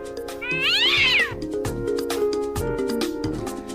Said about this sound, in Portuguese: Muito gato por aí, né? Muito gato. Olha o gato.